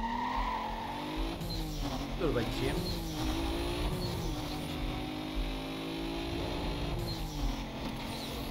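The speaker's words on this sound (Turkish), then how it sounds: "Şimdi buradan hızlansam 190 bulur mu bu araba?" Car in the Need for Speed Most Wanted racing game accelerating hard with a sustained engine drone, shifting pitch, and bursts of tire squeal from skidding, while someone talks over it.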